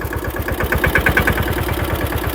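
A tractor engine idles close by, a steady loud low chugging with even rapid pulses throughout and no voices.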